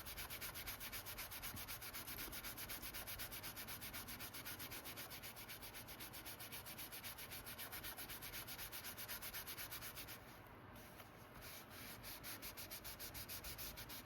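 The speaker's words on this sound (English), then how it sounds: "just kind of rub this a little bit and kind of rub any little tiny marks that might be in there out" Emery cloth rubbed over a leather trifold wallet, a steady close scratchy sanding in quick regular back-and-forth strokes that runs without pause, with a short lighter patch near the end.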